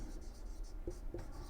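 A pen writes a decimal number by hand on paper, faint scratchy strokes in a few short rhythmic touches against a quiet background.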